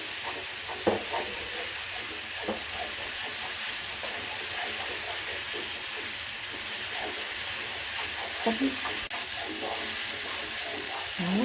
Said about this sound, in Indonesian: Jadi kita tumis dulu sampai harum.